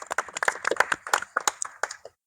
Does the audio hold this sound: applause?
yes